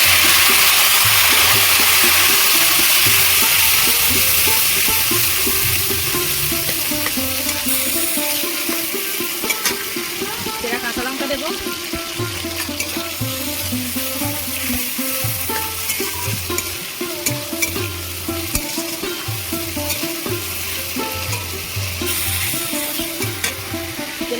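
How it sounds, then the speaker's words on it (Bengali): Chopped tomatoes sizzle loudly in hot mustard oil in a pan with whole spices. The frying hiss is steady and close, and a spoon stirs and scrapes through it. No voices are heard. "ফোড়ন ভাজা হয়ে গেছে টমেটো কুচি দিয়ে দেবো"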